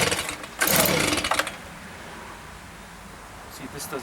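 A Stihl leaf blower that won't stay running roars loudly for about a second as it is started, then settles into a quieter steady engine drone, with a brief revving near the end.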